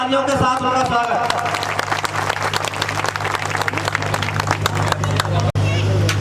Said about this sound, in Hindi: जोरदार तालियों के साथ उनका स्वागत